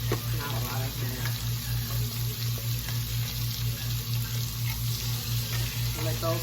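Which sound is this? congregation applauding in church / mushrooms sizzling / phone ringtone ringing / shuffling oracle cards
mushrooms sizzling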